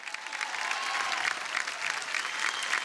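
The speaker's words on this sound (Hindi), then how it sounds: "जोरदार तालियां हो जाए।" An audience at an antakshari league match breaks into steady, loud applause, a dense wash of clapping that continues without pause.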